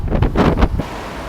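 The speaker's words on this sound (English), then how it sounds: "it's blowing a gale again" Strong gale-force wind buffets the microphone in loud surging gusts near Vauxhall Bridge on the Thames in London, dying down toward the end.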